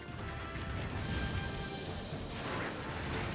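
A rumbling explosion in the video game Monster Hunter Rise during a Gammorth hunt, a dense, sustained roar of crashing debris and low boom that fills the whole moment.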